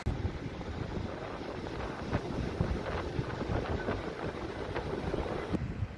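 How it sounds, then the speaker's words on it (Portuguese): Strong wind at a beach buffets the microphone in a continuous loud roar with gusty rumbling throughout, with no voices heard. "Tá muito vento, gente, não vai dar pra conversar aqui na praia com vocês."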